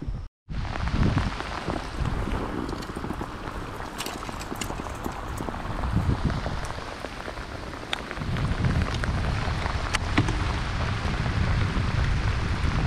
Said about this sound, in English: As you can see, the rain has picked up severely.